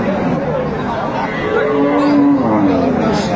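A dairy cow with eight teeth lows at Aftabganj cattle market, a drawn-out moo rising midway through a steady hubbub of crowd chatter and market noise.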